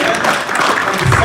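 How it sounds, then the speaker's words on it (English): A church congregation applauding the Lord at a Thanksgiving service, a loud, dense, continuous wash of clapping from many hands, with voices mixed in. "Let's give a hands clap for the Lord for that"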